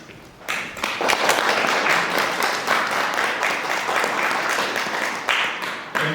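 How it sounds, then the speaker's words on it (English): Sustained applause from an audience at an international scientific conference, steady dense clapping that starts after a brief quiet moment and continues evenly throughout. "The audience is applauding you if you can hear it."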